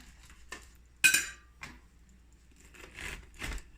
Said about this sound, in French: je vais prendre une cuillère